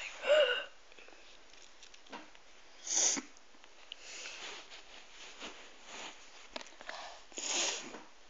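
Several short nasal sniffs from a person with a cold, scattered and fairly faint, with a couple of slightly louder breathy bursts among them and no talking.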